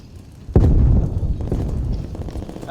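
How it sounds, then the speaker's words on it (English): A grenade explodes in the video game Call of Duty: Black Ops Cold War, one sudden loud blast followed by a rumbling roar that fades slowly under ongoing battle noise. "Grenade out. Grenade Yeah!"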